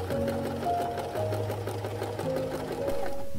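Sewing machine stitching the side seams of a silk skirt, a steady continuous mechanical whir with a running motor hum throughout, close and moderately loud.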